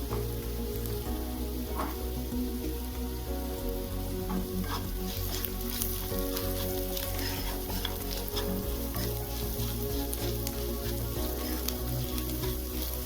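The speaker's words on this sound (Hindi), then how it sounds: "तो हल्दी डालने के बाद थोड़ी देर भून लिए, हल्दी को कच्चापन निकाल लिए इसका" Onions and turmeric powder fry in a pan for kanda poha, a steady close sizzle with faint stirring scrapes running without pause and no one speaking.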